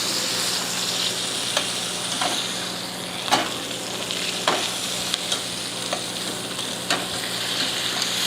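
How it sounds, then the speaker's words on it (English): A steak searing in a hot pan, a constant hissing sizzle with occasional sharp pops and clicks, close and steady with no speech. "So there is a raw side that I'm just gonna go ahead and sear."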